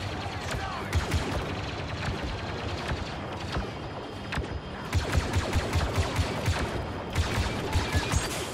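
Blaster gunfire in Star Wars Battlefront II crackles in rapid, repeated bursts, with dense volleys and short pauses between them, and voices faintly underneath.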